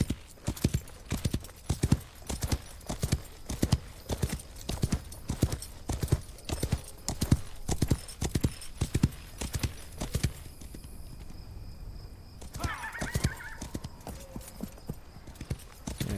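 Horse hooves clip-clop at a steady trotting rhythm in the Wild West Online video game, loud and close, stopping about ten seconds in, after which a brief whinny-like call sounds.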